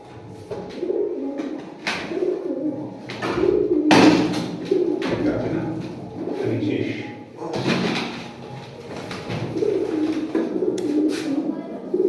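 Pigeons cooing in a loft, low throaty coos repeating close by, mixed with people talking and occasional wooden knocks like a door or drawer.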